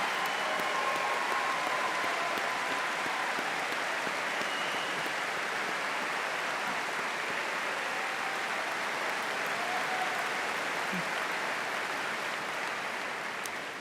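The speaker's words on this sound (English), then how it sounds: "Please join me in one final round of applause for those who have already served this great nation and our armed forces." A commencement audience at a college of engineering ceremony applauds military veterans, a steady wash of many hands clapping, moderately distant, sustained with no talk.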